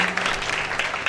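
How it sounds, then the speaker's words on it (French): A church congregation claps together in acclaim of the Lord during a worship service, a brief, dense and steady burst of applause filling the room. "On va acclamer le Seigneur."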